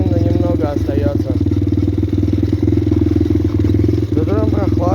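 A pit bike engine runs steadily while the bike wades through a deep stream, a loud continuous mid-pitched drone close by, with someone talking over it throughout.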